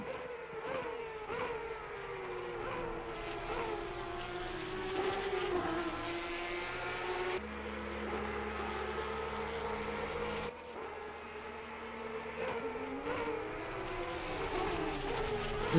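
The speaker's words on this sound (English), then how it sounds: "This car sounds so damn good going through this section of track." A Porsche Cup car racing through a section of Bathurst in a sim racing game, its engine rising and falling in pitch through gear changes and throttle shifts. The whine is loud and continuous, with brief drops where the revs fall before climbing again.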